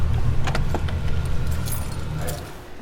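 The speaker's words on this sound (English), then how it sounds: "A lot of people end up having keys to the observatory." Keys jangling at a campus observatory, a close metallic rattle in short bursts over a low rumbling background, with no talk during the sound.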